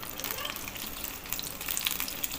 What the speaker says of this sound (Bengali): তেলটা গরম হয়ে গেলে প্রথমে কড়াইয়ে আমি পেঁয়াজ দিয়ে দেবো।